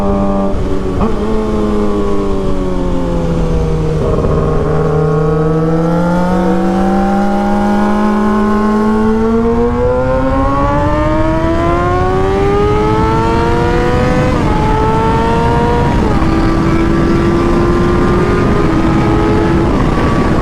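Suzuki GSX-R motorcycle with a loud muffler, a steady engine drone that rises and falls through several revs and gear changes, continuous and loud for the whole stretch.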